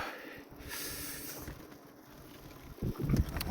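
Wind gusts buffet the microphone during a cycling trip on empty roads, a continuous rushing hiss with heavier low thumps toward the end, no talk.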